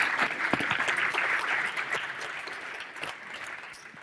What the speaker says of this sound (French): Une poignée d'applaudissements pour Éric aussi.